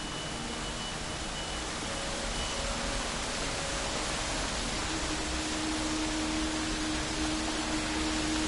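Steady hissing white noise ambience in the exploration game Dear Esther, a dense unbroken wash of static like rushing water or wind, constant and moderately loud with a faint low hum underneath.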